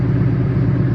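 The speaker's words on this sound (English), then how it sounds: "I can hear the direct injection. It's really noisy." A car engine with noisy direct injection runs steadily at idle, a dense low rumble with a faint fine ticking layered over it, constant and close throughout.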